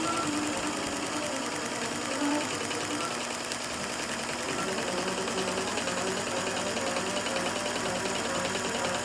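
Sewing machine stitching applique onto quilt fabric with fine micro quilter thread, a dense, steady rapid needle chatter and motor hum running unbroken and close throughout.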